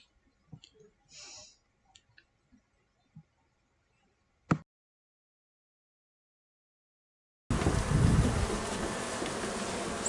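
Honeybees released from a package give a brief, faint buzz among scattered light clicks and taps, then a loud, steady rushing noise takes over near the end.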